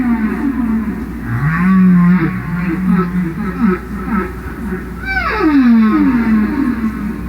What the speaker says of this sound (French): Baleine, très bien.